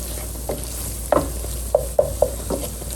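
Onions and flour cook in a pan under a soft, constant sizzle, with about six quick scraping stirs of a utensil close by. No voices are heard.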